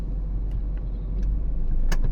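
Congested street traffic on Rufino Street near De La Rosa Street, cars idling in a steady low engine rumble with faint clinks and a brief sharp rattle near the end, no voices.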